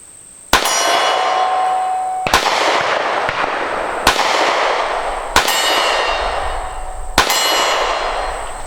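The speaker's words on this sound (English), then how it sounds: "let's see if we can hit a white mark with the Kahr PM9." Five sharp shots from a Kahr PM9 pistol at about 20 yards, each followed at once by a bright ringing clang off a steel target, spaced a second or two apart and loud against a steady outdoor hiss.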